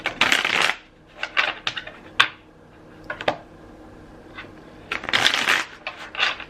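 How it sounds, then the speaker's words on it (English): A deck of tarot cards is shuffled by hand at close range, with several crisp riffling bursts separated by quieter pauses and a few single soft card slaps. "I didn't shuffle these beforehand, but I'll shuffle them now"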